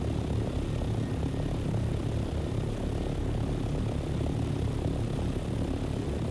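An aircraft flying in the Dune Awakening video game gives a steady, continuous low engine drone with even loudness throughout, with no speech.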